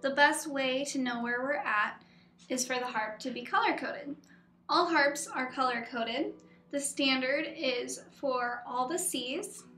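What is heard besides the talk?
None of the usual background noises is heard.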